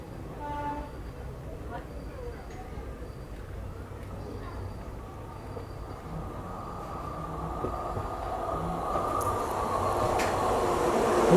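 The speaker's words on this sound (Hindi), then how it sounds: "सामने से आ रही है न्यू दिल्ली सुपरफास्ट एक्सप्रेस" A New Delhi Superfast Express train approaching and passing on an Indian rail line, a continuous rumbling roar that slowly swells louder toward the end.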